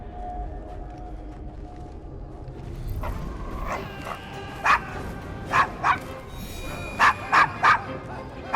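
A dog named Desmond barks and yips in Assassin's Creed Syndicate, a few sharp close barks arriving in short bursts over a busy street ambience with faint game chatter.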